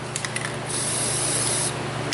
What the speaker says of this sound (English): Spray it with a little fluid film.